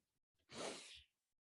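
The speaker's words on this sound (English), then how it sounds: "now listen, I'm gonna sneeze" A single sneeze bursts out after a short intake of breath. It is close, brief and sharp, and quiet silence follows.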